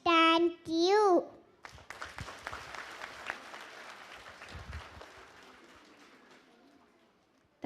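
An audience at a play school welcome event bursts into loud, sustained applause that slowly fades out, following a child's sung or spoken line at the start.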